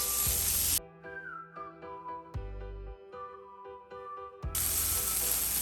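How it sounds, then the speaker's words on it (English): Freshly crushed ginger, garlic and green chili are sautéed in melted butter, giving a loud, close sizzle at the start and end, with a whistling melody filling the quieter middle. "Add the freshly crushed ginger, garlic and green chili to the butter. Saute it for less than a minute."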